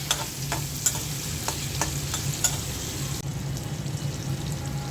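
Chopped onion frying lightly in hot oil, a steady close sizzle with a few sharp spoon scrapes against the pan, the hiss dropping somewhat partway through.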